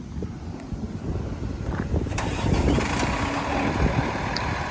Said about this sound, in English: Cummins starts right up, sounds great.